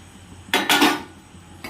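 Boiled banana flower and potato being mixed in a pan: a couple of close, fairly loud scraping clatters of a spoon against the pan, separated by quieter gaps.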